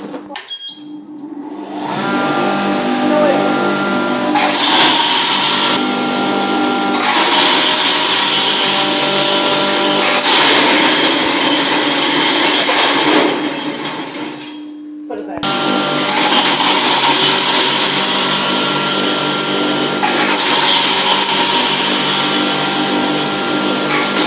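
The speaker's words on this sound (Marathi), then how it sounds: "ही आहे खारीक खोबरं आणि हळद बारीक करायची मशीन।" A grinding machine pulverises dried dates (kharik) and coconut in a small spice-grinding business, producing a loud, continuous mechanical whir with a brief dip and pause midway before it resumes.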